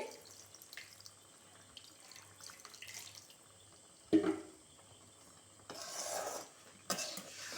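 Water pours and splashes into a pan in a couple of short bursts, preceded by a clunk of cookware and a low steady hum, while making brinjal (eggplant) curry.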